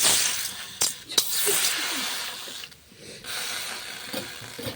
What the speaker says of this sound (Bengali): কড়াই গরম হয়ে গেছে, এবার দেবো জল।